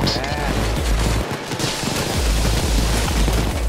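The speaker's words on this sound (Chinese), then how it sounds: "开他两枪。" Dense, loud gunfire in the shooter game Payday 2, with rapid repeated shots and low booms throughout, and voices talking underneath.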